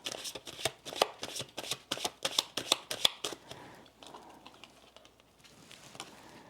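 Tarot cards shuffled and flicked by hand, a quick run of crisp, close slaps and riffles that thins into softer shuffling near the end, with no talk.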